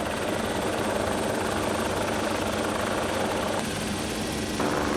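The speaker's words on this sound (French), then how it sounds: "L'hélicoptère travaille à quelques mètres de la falaise." A French civil security rescue helicopter hovers nearby, a few meters from a cliff face, with a continuous loud rotor and engine roar that stays steady throughout.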